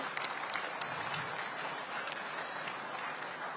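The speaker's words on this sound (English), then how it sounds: "A big round of applause for all the Nari Shakti." Audience applause at a women's leadership session honouring Nari Shakti, steady dense clapping from a crowd, moderately distant, sustained evenly throughout with no talking.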